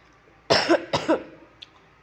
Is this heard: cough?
yes